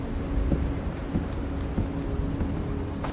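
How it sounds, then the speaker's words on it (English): Rain and a low thunder rumble from the dynamic weather in the video game Silent Hill 2, a steady wash of rainfall with deep rolling rumbles and a few soft thuds, heard alone without talk. "Actually sounds kind of creepy out here. I hear like this low rumble."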